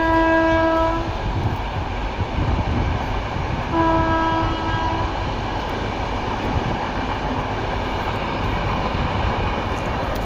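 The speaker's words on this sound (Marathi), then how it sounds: "रेल्वे गाडी चालू आहे." A train runs past with a steady, loud rumble and rattle, sounding two long horn blasts near the start and again around the middle.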